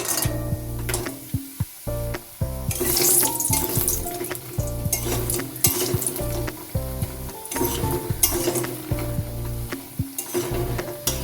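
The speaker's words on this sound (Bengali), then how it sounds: "সর্ষের তেল দিয়েছি, তেল গরম হলে প্রথমে বড়িগুলো ভেজে নিচ্ছি।" Bori lentil dumplings fry in hot mustard oil with an intermittent sizzle, punctuated by repeated clattering stirs and knocks against the pan, with steady background hum throughout.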